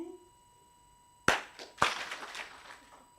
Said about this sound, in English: Why did you all clap?